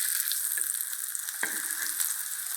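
Radish vadai fry in hot oil, a continuous bright crackling sizzle close by, with a brief soft scrape of a utensil partway through.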